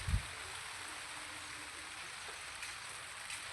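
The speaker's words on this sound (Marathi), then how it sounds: "सारखा पाऊस चालू" Steady monsoon rain falls outside in a village yard, a soft continuous hiss with no other clear sounds.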